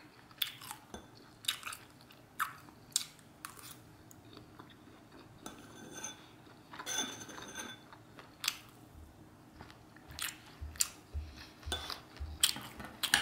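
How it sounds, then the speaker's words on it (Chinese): Sausage being chewed with a home meal in Korea, with repeated soft crunchy bites and moist chewing close to the mic, alongside occasional light clinks of cutlery or dishes, and no talking. "来吃香肠。"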